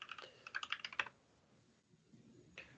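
Quick bursts of clattering keystrokes on a computer keyboard at a command-line coding meetup, a rapid run of taps followed by a pause and one more faint keystroke, quiet and close.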